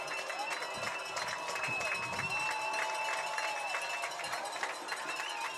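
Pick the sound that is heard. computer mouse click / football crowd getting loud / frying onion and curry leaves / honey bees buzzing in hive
football crowd getting loud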